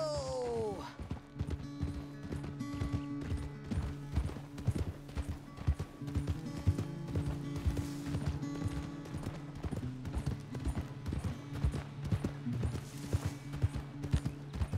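Horse hooves clip-clop steadily at a riding pace in Red Dead Redemption 2, a continuous rhythmic patter of hoofbeats over a low ambient bed with a faint whinny near the start.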